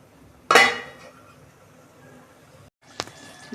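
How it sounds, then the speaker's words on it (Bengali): A metal lid clanks down onto a cooking pan of potatoes set over a low gas flame, one sharp ringing clatter followed by a quieter clink a couple of seconds later, close and alone. "গ্যাসটা একটু লো ফ্লেমে রেখে আমি ঢাকা দিয়ে দিচ্ছি পনেরো মিনিট পর্যন্ত"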